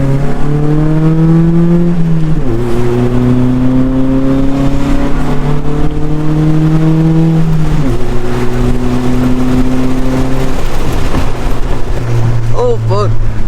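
A Honda Civic EK pulls hard from inside the cabin, its engine climbing steadily in pitch through several gear shifts, loud and close, with a rough, constant intake and road roar underneath.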